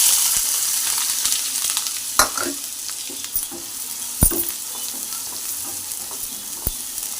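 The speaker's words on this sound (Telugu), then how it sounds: "కొద్దిగా రెడ్ కలర్ వచ్చేదాకా కొద్దిగా వేయించుకుందాం" Onions frying in ghee or oil in a pan, a steady hiss of sizzling throughout with a few sharp clinks and scrapes of a spoon stirring, close and fairly loud, no voices.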